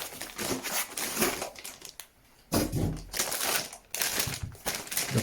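Packing foam from a PeakTech DC power supply box being handled and crushed, giving loud, dense crunching and crinkling bursts close up, broken by one short pause.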